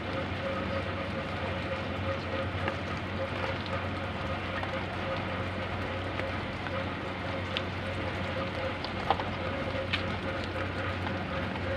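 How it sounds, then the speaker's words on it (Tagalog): Heavy rain pours down steadily outdoors near a motorcycle under repair, a dense constant hiss with no breaks throughout. "Kusog kayong ulan."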